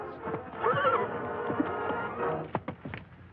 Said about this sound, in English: Here is the war horse, Black Cloud fiery veteran of a hundred campaigns